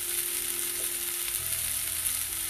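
Vegetables for a burrito bowl sauteing in a pan, giving a continuous close hissing sizzle, steady throughout with faint stirring underneath.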